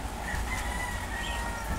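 A rooster crows faintly in the distance over a steady wash of background noise, its drawn-out call rising above the hiss.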